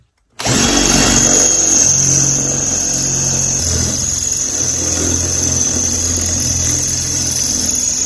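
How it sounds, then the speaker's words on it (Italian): A Teccpo PHD100D 18V cordless drill runs steadily for several seconds with a loud continuous whine and grinding rumble as it bores into concrete. "voglio provare a forare anche il cemento"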